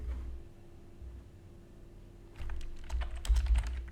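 Words are typed on a computer keyboard, a quick burst of close, crisp key clicks that starts after a quiet stretch with a low hum.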